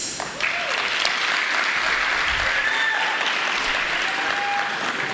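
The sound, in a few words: crowd applauding and cheering for Paralympics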